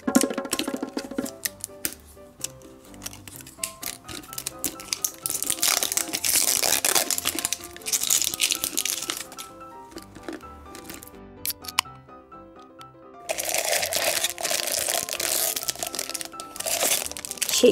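A surprise drink box is torn open by hand, its plastic packaging crinkling, crunching and rustling up close in busy, irregular bursts with a short quieter pause.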